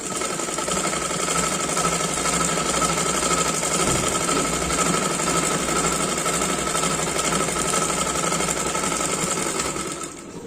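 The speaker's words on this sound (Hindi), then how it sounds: "अब आसन को सिल देते।" A sewing machine runs continuously while stitching a kurti, a steady, close mechanical whir and rapid needle clatter lasting the whole stretch, heard alone without speech.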